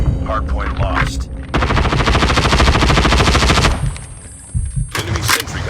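Assault rifles fire in Call of Duty Mobile during a Hardpoint match: a loud, continuous automatic burst of about two seconds, framed by shorter shots and game noise.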